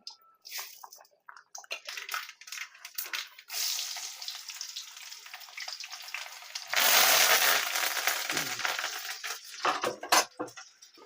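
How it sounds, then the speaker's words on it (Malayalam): Mustard seeds spluttering in hot coconut oil in a clay pan on a stove, giving a sharp, irregular crackle that starts in spurts and then swells into a dense, loud sizzle before breaking into scattered pops. "അതിൻ്റെ അകത്ത് നമ്മൾ വെളിച്ചെണ്ണ എടുത്ത് കടുക് പൊട്ടിക്കാനായിട്ട് പോവാണ്"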